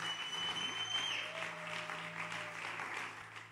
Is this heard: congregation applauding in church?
yes